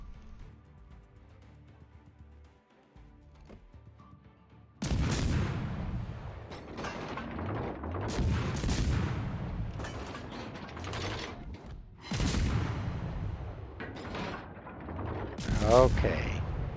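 Naval gunfire from enemy ships, including the cruiser Tallinn, in a warship video game: a run of heavy, close booms and blasts that starts after a quiet opening and repeats in loud bursts.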